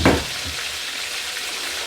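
Onions and peppers hit hot olive oil in a pan for a split pea soup: a loud burst of sizzling at the start that settles into a steady, close hiss of frying.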